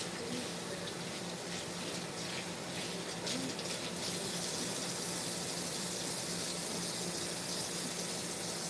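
Water from a kitchen tap runs steadily into a sink for rinsing, a continuous broad rush at close range with no talking.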